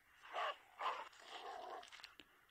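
A dog in the game Into The Dead barks twice in quick succession, then gives a run of softer huffs and yelps, fairly close and clear with no talk over it.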